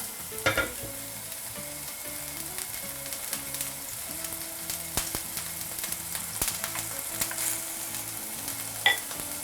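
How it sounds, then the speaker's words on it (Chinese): A beef patty fries in a lightly oiled pan over medium-low heat, sending up a steady close sizzle with occasional crackles and a few sharp clinks, no talking over it. "把牛肉饼先给它煎熟，啊，直接下入牛肉饼"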